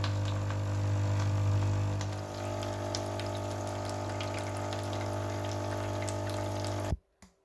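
A Dolce Gusto Genio S coffee machine pumps water through in rinse mode with a steady, humming drone and flowing water. The sound runs evenly, close by, then cuts off abruptly near the end.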